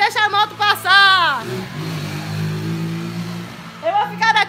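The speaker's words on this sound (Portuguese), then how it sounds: "Pera aí, Juliano, deixa a moto passar" A motorcycle passes through an indoor hall, its engine rising into a loud, reverberant rumble that fades away, with people talking before and after it.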